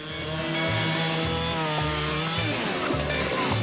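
A chainsaw roars steadily at close range during a sawing competition, its engine pitch dipping and rising in repeated pulses as it bites into a log.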